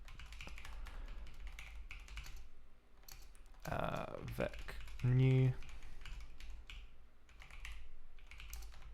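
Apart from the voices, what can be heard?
typing on a computer keyboard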